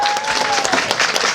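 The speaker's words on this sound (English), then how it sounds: "give yourselves a round of applause for being part of it" A crowd applauds with dense, steady clapping that fills the whole moment, loud and close.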